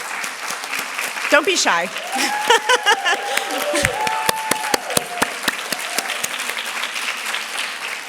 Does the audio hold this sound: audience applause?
yes